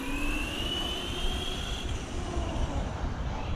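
An HSP 94701 Wolverine brushed 4x4 RC truck driven at full throttle on pavement, a steady whine from its electric motor that rises in pitch as it slowly gains speed, heard alone without talk.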